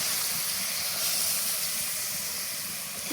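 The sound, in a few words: milk poured into hot pan for ilish pulao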